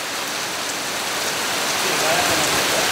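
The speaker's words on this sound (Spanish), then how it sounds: "ahora estamos durante el monzón y llueve bastante" Heavy monsoon rain falling in Bali, a loud, dense, continuous hiss of drops on surfaces that stays steady throughout with no other clear sounds.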